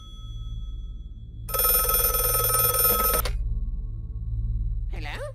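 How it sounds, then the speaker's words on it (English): An old-fashioned telephone bell rings loudly in one sustained burst of about two seconds over a low background hum, then stops, followed by a brief warbling tone. "Once again, the phone rings, interrupting their little song and dance session."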